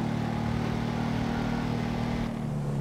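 A motorcycle engine drones at a steady mid pitch with a constant hum, ridden in the video game GTA V, holding an even loud level before easing slightly near the end.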